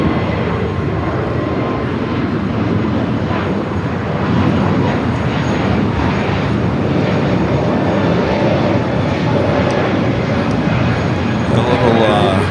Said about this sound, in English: United A321 Neo, next takeoff here on the south side.